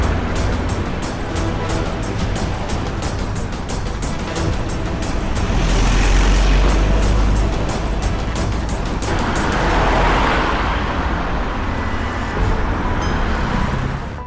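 A car pulls away and speeds off in a rush, its engine and road noise swelling loud and close, then a whooshing pass of traffic toward the end.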